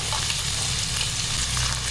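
Chopped garlic, carrot, cauliflower and beans sizzle in a hot pan for vegetable fried rice, a steady, close, continuous frying hiss with no voices over it.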